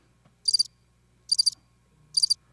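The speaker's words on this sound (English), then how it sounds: "I like this one, like crickets." Cricket chirps used as a sound effect: three short, bright trilled bursts at regular intervals, crisp and close over near silence.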